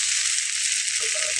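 Rice-flour egg pitha batter, one ladleful, sizzling steadily in a frying pan, a close, continuous hiss with no one talking.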